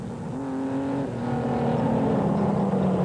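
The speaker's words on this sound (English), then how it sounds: "You hear the transmission, but that rocks are hitting the bottom of the race car." An off-road race car in the 1998 SCORE Primm 300 desert race grinds over rocks, its engine and transmission whine droning loud and steady, rising slightly in pitch, with no voices heard.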